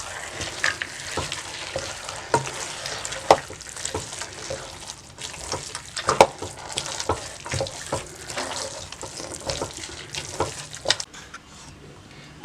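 Halwa frying in ghee while it is stirred, a close, continuous sizzle punctuated by irregular scraping and knocking strokes of the spoon.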